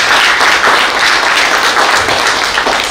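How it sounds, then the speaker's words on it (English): Audience applause for Dr. Peter Castellino at a World Mental Health Day event, a steady, dense round of clapping that fills the whole stretch without talk over it. "I believe he deserves another big round of applause."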